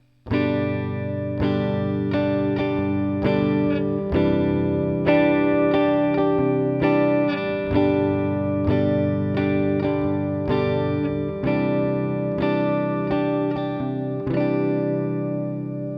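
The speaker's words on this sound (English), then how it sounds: "as you get faster, that strumming pattern will sound like this." Guitar strumming a chord pattern at a quicker tempo, steady rhythmic down and up strokes ringing loud and close, played alone without talk.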